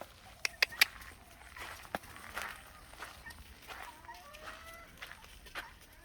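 Free-range guinea fowl on a homestead after rain, calling in scattered sharp squawks and chattering cries at a moderate distance, with a few louder clicks early on over a quiet outdoor background.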